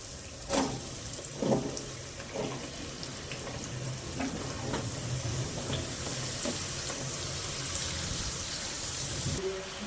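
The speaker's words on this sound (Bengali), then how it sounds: "মশলা কষা হয়ে গেছে, এবার সবজিগুলো দিয়ে দেবো।" Vegetables tipped into a hot pan of cooked-down spices, a continuous close sizzle with a few sharp splashes and clatters at the start, steady and fairly loud throughout.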